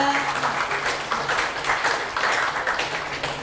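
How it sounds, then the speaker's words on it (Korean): Audience at a Korean political party representatives' convention in Ulsan applauding, continuous clapping from a hall full of people with rhythmic surges, fairly close and loud. "큰 박수 부탁드립니다."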